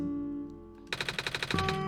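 Glitch effect from the video game OneShot, the machine corrupting its own code: a steady hum abruptly breaks into rapid stuttering bursts, loud and close, then settles into a changed tone.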